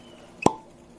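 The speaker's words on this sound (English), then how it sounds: "pop the cork" A cork pops from a bottle of GlenDronach 12 year old scotch whisky, one sharp close plop in a quiet room with a faint squeak just before.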